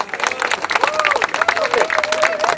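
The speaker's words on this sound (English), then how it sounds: "So let's give ourselves a round of applause." An outdoor audience at Speaker's Corner breaks into applause, a crackling burst of many hands clapping close by, mixed with a raised voice and crowd chatter.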